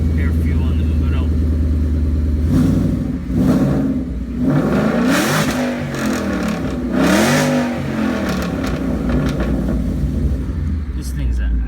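Supercharged engine of a 2013 Mustang Roush TVS idling loudly nearby, then revved several times in rising and falling sweeps with supercharger whine before settling back to a lumpy idle.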